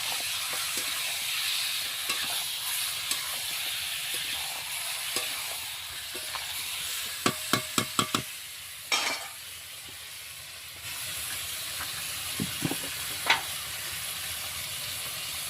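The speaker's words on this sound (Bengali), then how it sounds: "একটু নেড়ে নেব।" Meat being stirred in a pan with salt and turmeric, a steady close sizzle with scraping stirs and a quick run of spoon clicks against the pan partway through.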